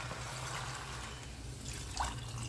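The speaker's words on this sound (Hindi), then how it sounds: "पानी डाल देते हैं" Two cups of water poured into a pot of rice for mixed vegetable tehri, a soft steady splashing and trickling close by with a brief louder gush near the end.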